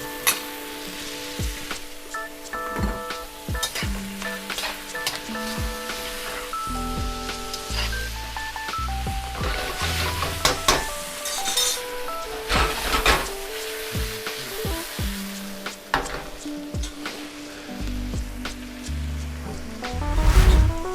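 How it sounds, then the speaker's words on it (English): Frozen shrimp fry in a hot wok with broccoli for shrimp fried rice, a continuous crackling sizzle with intermittent stirring clatter, set under steady background music. "And now I'm going in with my shrimp."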